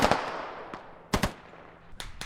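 Gunfire in the military shooter game Squad: a few sharp, loud shots spaced apart with echoing tails, heard on their own with no talking.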